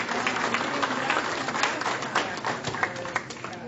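A church congregation claps and applauds during a Sunday morning service, a dense, steady wash of many hands at close range. Scattered sharper claps stand out, and faint voices mix in beneath the clapping.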